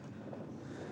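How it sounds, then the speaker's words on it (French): Sea wind blows at the top of a wind turbine, a steady close rush of wind buffeting the microphone with no break. "On sent le vent de la mer,"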